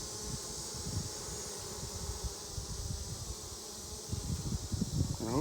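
A honey bee swarm hums in a low, steady buzz with flickering wingbeat pulses, fairly faint and constant, swelling slightly toward the end amid light outdoor background noise.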